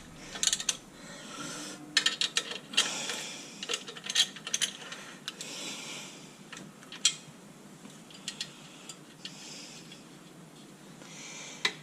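Ratcheting wrench clicks while tightening the clutch pressure plate bolts on a 2014 VW Polo 1.4: quick bursts of metallic ratchet ticks, close and fairly quiet, repeating irregularly in short runs with brief pauses.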